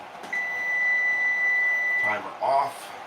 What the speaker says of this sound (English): Timer off.